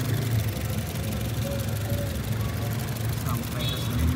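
A 2014 Honda Mobilio E automatic engine idles normally with a steady low hum and faint rattling, while a person talks over it.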